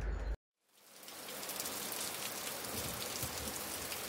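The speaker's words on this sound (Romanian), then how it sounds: "Slabe șanse să se oprească ploaia în 40 de minute" Steady rain falls in Scotland while people wait outdoors for a steam train, heard as a broad, even hiss that rises after a brief abrupt silence at the start.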